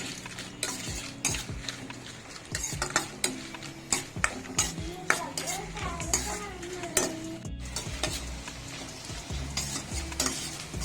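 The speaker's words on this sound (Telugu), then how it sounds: "అప్పుడు ఎండుమిరపకాయలు ఒకసారి వేపేసి" Dried red chillies fry in hot oil for a spicy ginger chutney while a metal spoon repeatedly scrapes and clinks against the pan. The stirring clatters in an irregular rhythm over a steady, soft sizzle, with no talking.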